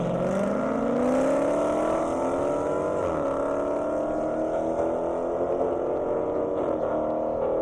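A Dodge Challenger and a Hellcat race down an airstrip, loud engine wail with rising, sweeping whine tones as they accelerate, a clear shift around the midpoint, and sustained high-revving roar without talk.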